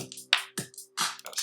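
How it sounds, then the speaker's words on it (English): Clap sample from an Akai MPC 1000 drum machine, struck as a quick series of sharp, bright hand-clap hits in an uneven pattern, with a faint steady tone ringing underneath. "Got a clap."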